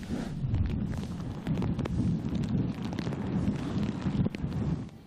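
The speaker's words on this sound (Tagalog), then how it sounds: "Ang malakas na hangin at pabugso-bugsong ulan na dala ng bagyong Pepito" Strong gusting wind and rain from Typhoon Pepito sweeping through a town in Nueva Ecija, a steady roaring rush with surging gusts and buffeting across the whole stretch, no voices.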